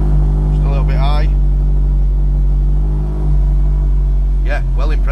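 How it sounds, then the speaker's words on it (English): Car engine idling slightly high on a cold start, a steady loud low drone running throughout while someone talks over it at the start and end. "It's on a cold start, that's why it's revving just a little bit high."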